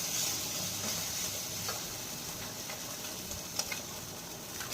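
Fish fries in a pan in a home kitchen, giving a steady, soft sizzle with faint crackles and occasional small ticks, heard up close and alone.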